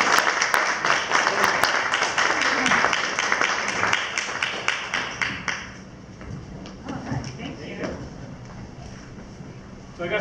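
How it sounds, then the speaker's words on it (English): An audience gives a big round of applause for a speaker at a science fiction talk, loud crowded clapping with a few sharp claps that tapers off after about six seconds, leaving scattered claps and background murmuring. "So let's give him a huge round of applause."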